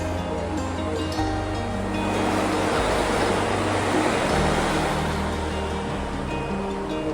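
Open-sea swell rolling past the Spirit of Tasmania ferry, a continuous broad rushing wash with a low engine hum beneath, steady and unbroken, no voices.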